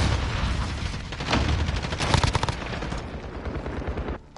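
Rapid gunfire in Modern Warfare, bursts of automatic shots and heavier booms crackling close and loud over a few seconds, with two shooters firing in overlapping volleys.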